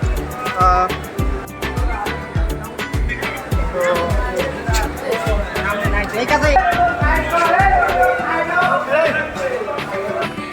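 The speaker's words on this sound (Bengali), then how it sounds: "প্রচুর পরিমাণে ভিড়" A crowded railway station platform on the Pabna to Rajshahi route fills with dense, continuous crowd chatter and overlapping voices, with a low rumble and scattered knocks underneath.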